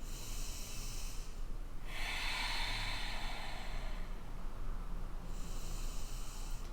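Slow, deep breaths during a yoga flow, each long inhale or exhale heard as a soft, airy hiss, close and quiet, about three breath phases alone with no talk.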